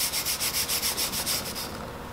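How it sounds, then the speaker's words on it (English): Stiff brush scrubbing BarShield cleaning formula into a steel barbell, about ten quick rhythmic back-and-forth strokes, close and alone, easing off near the end. "Use brush to work the BarShield formula into your bar."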